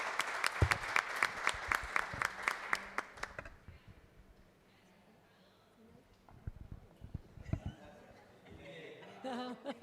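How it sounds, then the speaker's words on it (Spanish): An audience at a teachers' book presentation claps loudly in a brisk rhythmic burst for several seconds, then fades into murmurs, a few scattered claps and a person speaking. "Le damos un fuerte aplauso."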